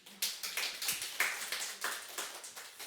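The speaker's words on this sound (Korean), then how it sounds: "그때 여러분 박수를 쳐줘야 되잖아요" Rhythmic clapping from a church congregation at a Sunday service, a steady run of sharp claps spread across the room at moderate volume with no talk.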